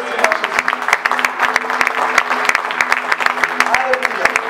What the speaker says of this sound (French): Merci d'avoir acclamé pour moi.